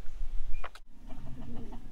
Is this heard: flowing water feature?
no